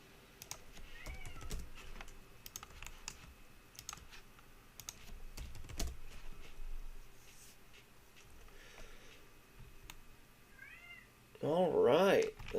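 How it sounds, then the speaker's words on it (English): A cat yells right outside a door with a loud, drawn-out meow near the end, after fainter meows, over quiet keyboard typing and clicking, and a person talks. "There's a cat yelling at me."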